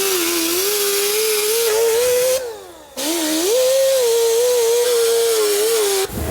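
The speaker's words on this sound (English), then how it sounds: "So we're just gonna keep on grinding and see how bad this hole is." A power grinder cuts down rust around a hole in the body of a beat-up abandoned Lexus, giving a loud, steady, high whining drone that briefly drops away and then spins back up.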